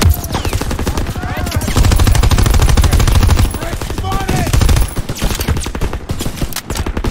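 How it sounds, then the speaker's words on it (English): Dense, loud gunfire from the World War II shooter game Call of Duty WW2, with rapid machine-gun bursts and rattling volleys filling the whole stretch. A brief dip in the shooting comes before it picks up again. "What the hell is shooting?"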